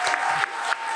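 Studio audience applauding for Najwa Shihab, a steady dense wash of clapping that runs through the whole second with slight surges.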